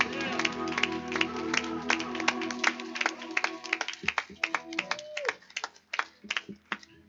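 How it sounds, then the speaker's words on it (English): A congregation at a Sunday worship service claps in praise, sharp clustered hand claps over sustained organ or keyboard chords. The claps grow sparser and more uneven in the final seconds. "Those that love him, celebrate him with a hand clap of praise"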